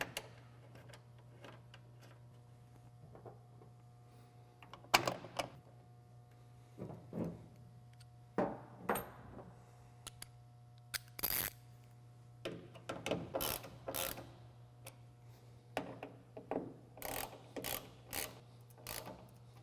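Bolts being fitted and tightened on bed channel supports of a 2007-2021 Toyota Tundra truck: scattered metallic clicks and ratcheting ticks, close and fairly quiet over a steady low hum, with no talking.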